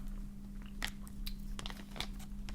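Close crunching and biting on Meiji chocolate, several sharp crisp bites and chews over a low steady hum, with no talk.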